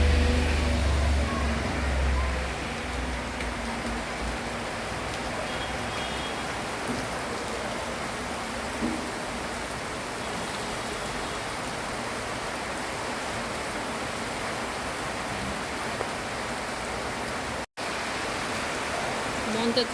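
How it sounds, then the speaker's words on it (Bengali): Heavy rain pours down outside an eleven-storey building in a dense, steady hiss that lasts throughout, with a brief dropout near the end. "প্রচুর বৃষ্টি পড়তেছে।"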